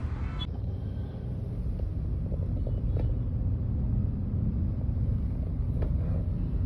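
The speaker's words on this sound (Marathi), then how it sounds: "वरळीच्या एरियामध्ये तसा नेहमीच ट्रॅफिक असतो सो आजही तसाच ट्रॅफिक लागलेला आहे" Traffic rumbles steadily on a busy road in Worli, Mumbai, a continuous low engine drone with wind buffeting the microphone and a few faint passing clicks.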